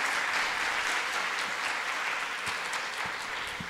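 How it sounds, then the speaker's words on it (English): Audience applause for panelists after a pharmacoinformatics panel discussion, a sustained, even wash of many hands clapping from start to finish, fairly loud and without speech. "Good applause for all the panelists."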